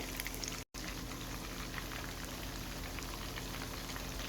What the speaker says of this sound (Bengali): মাছগুলো ভাজার জন্য একটি ফ্রাই প্যান বসিয়ে দিয়েছি মিডিয়াম আছে মাছগুলো ভেজে নিচ্ছি